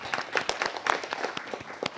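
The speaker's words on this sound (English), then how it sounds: "Let's again give them a round of applause." Brief round of audience applause at a city council meeting, a moderate patter of many hands clapping steadily, slightly distant, with no talk over it.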